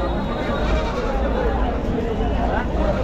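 Sheep and goats bleat amid a busy crowd at the Chakan livestock market, the animal cries rising over a constant murmur of people talking nearby.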